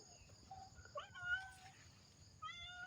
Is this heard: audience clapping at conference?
no